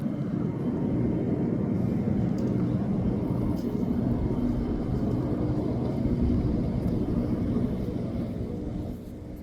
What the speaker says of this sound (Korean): 헬리콥터가 날아다니는 게 보입니다